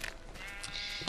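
A Minecraft sheep gives a short, close bleat over quiet background game sounds.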